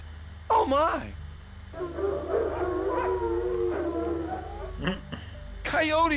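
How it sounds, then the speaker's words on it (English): Coyotes howl in the Western video game DUST: A Tale of the Wired West. Wavering howls rise and fall near the start and again at the end, with spoken dialogue in between. "Coyotes in the kitchen again!"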